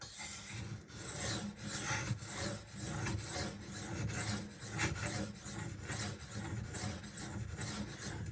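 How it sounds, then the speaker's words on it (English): A Benchmade Bugout knife with 20CV steel is stroked along a Shapton Rockstar whetstone, making close, continuous rasping strokes in a steady back-and-forth rhythm. "And I'm just going to keep sharpening on the same side."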